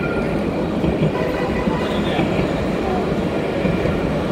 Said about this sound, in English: The train is passing the Zion Square.